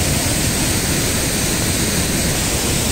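A steady, heavy rush of falling water fills the air as the Salto do Rio Pardinho waterfall in Rio Grande do Sul pours into its pool, loud and unbroken from nearby, with no talking.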